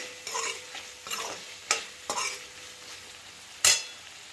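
Potato and spinach sabzi stirred fast with a spatula in a pan over high gas flame: about six sharp, uneven scraping strokes close up over a faint sizzle.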